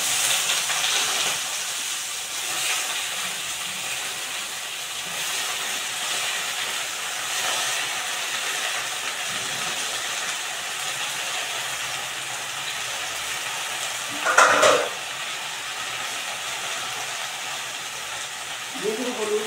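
Malabar spinach drops into hot oil tempered with five-spice, producing a long steady hissing sizzle with a brief louder clatter midway, moderately loud throughout.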